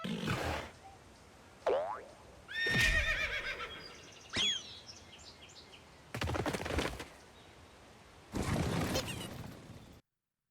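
A cartoonish horse whinny from the Pocket Card Jockey video game on Nintendo Switch, with several shrill neighs and springy game effects in bursts over about ten seconds, ending abruptly in silence.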